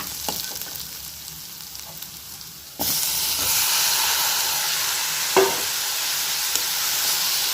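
Tomatoes added to softened onions sautéing in a pan for paneer butter masala: a light sizzle with a few spoon scrapes, then a sudden louder burst of steady frying hiss that continues with occasional clinks.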